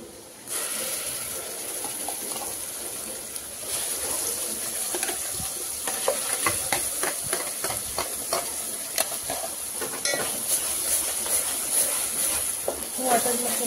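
Ground masala paste for a crab curry fries and sizzles in a pan under steady hiss, with repeated scraping stirs and clinks of a spoon against the pan growing busier toward the end, close and fairly loud.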